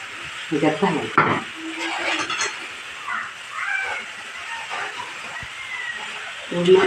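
Modak filling of almonds, cashews and ground sesame is stirred in a pan, soft scraping and faint sizzle beneath a voice that speaks throughout.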